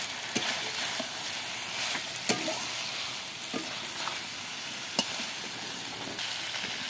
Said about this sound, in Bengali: এরপরে দিয়ে দেব সোনাটা আর আলু। ভালো করে নাড়াচাড়া করে নেব।